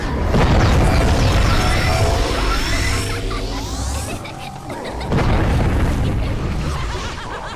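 Heavy booming cannon blasts with crashing debris, loud and close, repeated across the clip amid dense cartoon-style action effects in an animated film.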